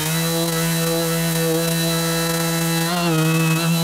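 A Makita XGT 40v corded sander runs on wood under load in a stall test, giving a loud, steady motor whine and hum that dips briefly in pitch near the end, with no talking.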